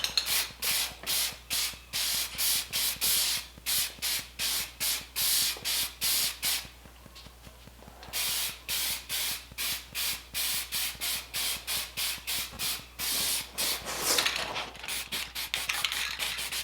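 Spray paint hissing onto small cast iron pot belly wood stove pieces in repeated short bursts, dozens of quick pulses with brief pauses, close and steady, no talking.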